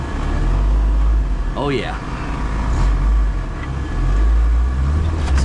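A 1993 Jeep Wrangler engine drives in four-low gear as a loud, steady low rumble that holds throughout, with a voice speaking briefly over it.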